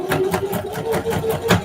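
A sewing machine stitches jeans in a steady rhythmic run, its needle beats pulsing evenly and close, with no talking.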